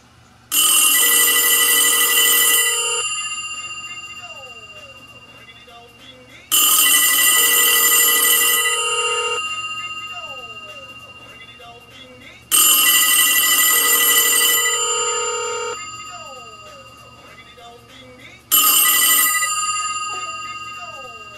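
Two no-name mechanical telephone bells ring together in four loud bursts, each about two to three seconds long, with a metallic ringing that decays between bursts. No one speaks.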